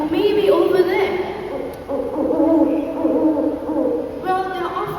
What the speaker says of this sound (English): that was a familiar call of an owl